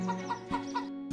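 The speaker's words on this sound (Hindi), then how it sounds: "भिखारी मुर्गी को पकड़ा" A chicken caught for a street-food chicken biryani clucks in a quick series of three or four soft, close calls, over a steady low hum.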